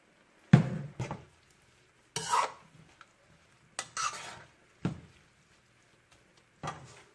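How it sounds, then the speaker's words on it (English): Spinach being tossed and stirred into a milk mixture in a pan, heard as a handful of separate scraping, clinking strokes of a utensil against cookware, spaced out with quiet gaps between them. "You want to make sure that you toss your spinach around in the mixture, the milk mixture"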